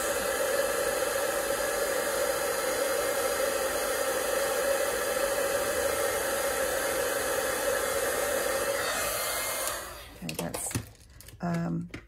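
Steady blowing roar of an embossing heat tool melting white embossing powder over Versamark ink on a Valentine card, running loud and continuous before cutting off, followed by a few brief handling sounds.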